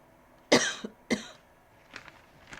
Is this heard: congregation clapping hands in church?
no